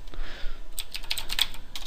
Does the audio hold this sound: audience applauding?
no